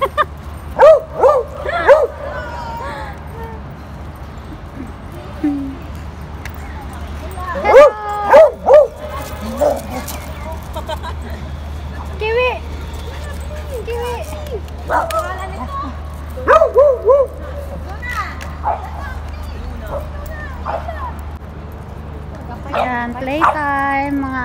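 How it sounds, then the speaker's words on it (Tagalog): A bulldog and other dogs bark, yip and whimper in scattered bursts at close range during playtime, with people talking over and between the sounds. "playtime, mga aso."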